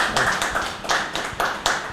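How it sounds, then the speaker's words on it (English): An audience at a digital marketing workshop claps sparsely, a handful of sharp, separate hand claps arriving in an uneven rhythm at moderate volume, close by, with no voices over them. "Please clap for him. Clap for him."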